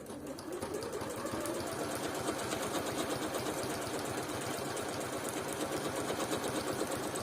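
Bernette B38 sewing machine stitching at a steady, fast rhythm, a continuous mechanical chatter of rapid needle strokes over a low motor hum, close and moderately quiet with no talk.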